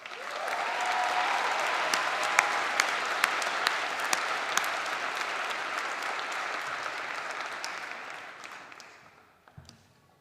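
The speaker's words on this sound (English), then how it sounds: "Let us applaud the accomplishments of all of the graduating seniors of the Sustainable Resources Management Program." A large commencement audience applauds graduating seniors of a sustainable resources management program, a broad sustained roar of clapping that holds steady for several seconds and then fades away near the end.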